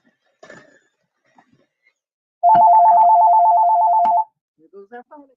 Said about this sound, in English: Here goes that phone again.